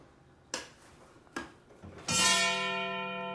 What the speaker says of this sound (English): That's that bell. That's what would be in the